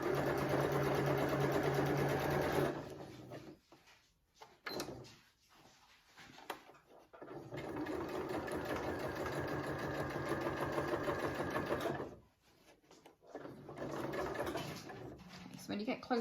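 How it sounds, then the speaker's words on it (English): Sewing machine stitching piping onto a cushion, running in a steady close mechanical whir that stops briefly twice and then restarts, with a person talking over it. "I'm going to sew all the way to the corner."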